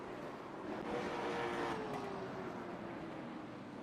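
Late model race cars roar around the asphalt oval at The Bullring, a dense, distant wash of engine noise with faint rising and falling drones as the pack sweeps past.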